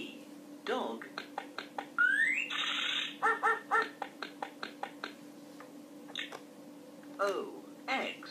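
A VTech Progress toy laptop plays a synthesized dog sound amid a sequence of short electronic beeps and chirps, the barks coming as a series of quick yips from a small speaker.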